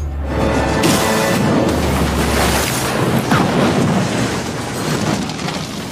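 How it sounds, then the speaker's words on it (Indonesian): A heavy, roaring blast of broadband noise from a shot tank exploding, with deep rumbling low end that rolls on and slowly subsides, no voices present. "menembak tangkinya sehingga menyebabkan ledakan besar"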